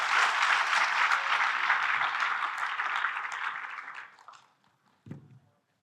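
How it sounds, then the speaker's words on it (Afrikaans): Audience applause at a cultural gathering, a dense crowd clapping loudly that fades out over several seconds, followed by a brief low thump near the end. "kom ons gee vir die twee mense 'n lekker hande klap"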